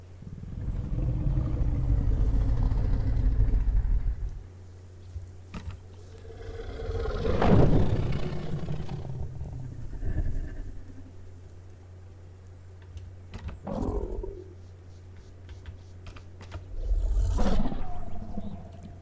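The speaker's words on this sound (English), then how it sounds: "showcase these sounds for Dryptosaurus and showcase it off as an adult with its sounds" An adult Dryptosaurus in the Path of Titans game gives several deep roars and growls, heavy with low rumble and spaced by pauses, ending in a final loud roar. Close, with no talking.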